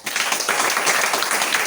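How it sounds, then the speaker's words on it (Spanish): Dense, steady audience applause fills a small bookstore at a book presentation, many hands clapping close and loud for the author throughout, with no pauses. "un aplauso para el autor"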